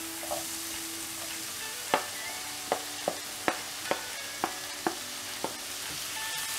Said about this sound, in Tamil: இப்போ நம்ம வந்து தக்காளி ஆட் பண்ண போகிறோம்